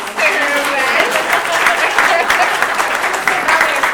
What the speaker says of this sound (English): Let's clap her out while she runs to